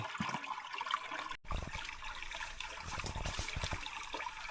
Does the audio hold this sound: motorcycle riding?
no